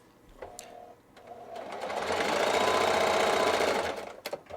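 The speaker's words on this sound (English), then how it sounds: "So we're going to try a straight stitch first." A Singer Heavy Duty sewing machine runs a straight stitch, its rapid rhythmic whirring and clatter building to a steady, fairly close run for a couple of seconds, with a few clicks and handling noises before and after.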